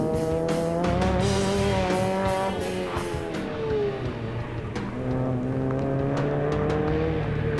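A drift car cornering on a course holds a loud, sustained engine drone as its tires squeal through the turn, heard close from onboard with no talking.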